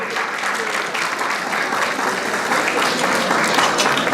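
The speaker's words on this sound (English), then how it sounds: "Nice big round of applause for Tony" A crowd at an annual dinner dance applauds, dense and lively clapping that swells slightly toward the end, sustained and close with no one speaking over it.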